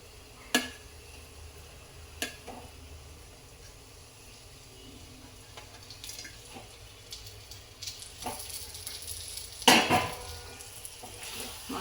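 Fried brinjal pieces being stirred into masala in a pan give a low, soft sizzle with occasional sharp scrapes and clinks of a spoon against the pan, one louder clatter near the end.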